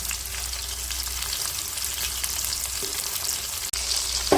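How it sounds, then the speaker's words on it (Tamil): Onions sautéing in a pan for Pallipalayam chicken produce a steady, fairly loud sizzle throughout, broken by a quick knock and a brief clatter of stirring toward the end. "வெங்காயம் வதங்கிக்கலாம்."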